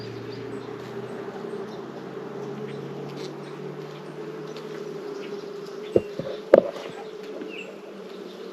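A honeybee swarm that has already built wild comb drones with a steady, dense buzz throughout, close and even, with a couple of short knocks near the end.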